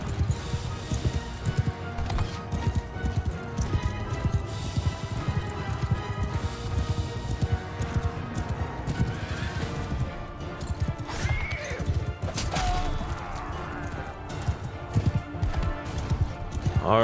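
Horse hooves clip-clop at a gallop with occasional neighs in the video game Mount and Blade Bannerlord, layered with battle clashes and game noise.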